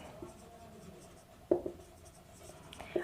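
Pen writing an accounting journal entry on paper, a soft scratchy scribble running throughout with a couple of sharper taps, close and quiet.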